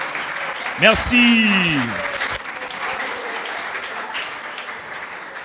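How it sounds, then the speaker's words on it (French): A youth audience at a public-speaking workshop breaks into applause, with a short spoken thank-you and a whistle-like tone near the start before steady clapping carries on and slowly fades. "Voilà, on applaudit."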